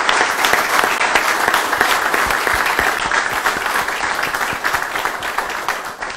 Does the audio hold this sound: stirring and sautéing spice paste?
no